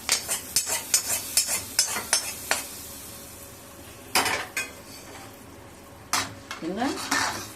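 A spoon stirs oil tempering of mustard seeds, cumin, turmeric and curry leaves into yogurt in a bowl, giving a series of sharp clinks and scrapes against the bowl, with a pause mid-way and a final burst of scraping.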